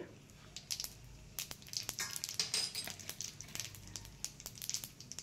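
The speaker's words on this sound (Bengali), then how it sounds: "ফোড়ন দিয়ে দিলাম গোটা জিরে।" Whole cumin seeds crackle and pop in a little hot oil, faint irregular sizzling snaps scattered across the moment, close and quiet with no talking.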